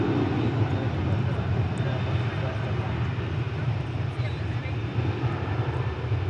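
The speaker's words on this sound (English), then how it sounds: "So here comes the United Jet, 11 years old is this one." An 11-year-old United jet airliner arrives at DFW Airport with a steady, broad engine roar at moderate distance, continuous with a person talking over it.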